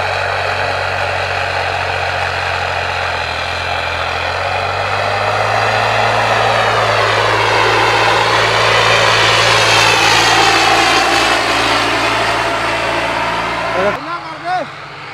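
A 855 tractor fitted with a turbo revs hard, its loud droning engine climbing in pitch with a rising turbo whistle over about fourteen seconds before dropping off, while voices talk over it.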